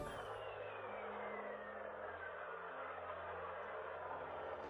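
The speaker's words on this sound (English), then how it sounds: "And this is the sound of a thunderstorm on Jupiter." A thunderstorm on Jupiter turned into sound comes through as a faint, steady wash of hissing noise with a low rumble beneath it, with no voices.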